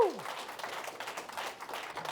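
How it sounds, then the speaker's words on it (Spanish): Congregation applause in a church service, a dense patter of clapping sustained throughout, fairly even in level with a faint voice tail at the very start. "Y denle un aplauso a Jesús."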